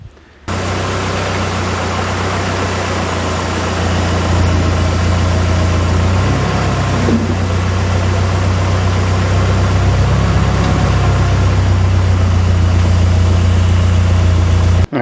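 A Nissan 240SX sits idling with a steady engine rumble and a continuous whine from the power steering pump after a steering rack swap, loud and close, with a couple of brief pitch swells near the middle.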